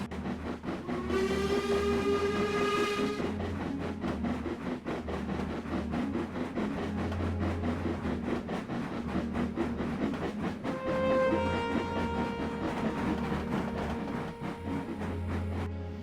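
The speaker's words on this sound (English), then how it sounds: "they see the yard jam-packed with all the wagons they'll be taking" Trains and wagons clank and rumble through a crowded railway yard, with steady rolling clatter, a long high squeal of wheels or brakes, and later softer screeching under the continuous noise.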